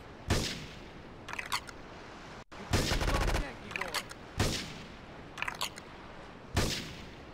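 Gunfire in the video game GTA III during a mission to take out a ship, with several separate loud blasts and bursts spread across the clip and short gaps between them.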